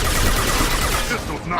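Rapid gunfire in Mass Effect 2 crackles as a dense, loud burst of shots for under two seconds, partly masked by combat noise.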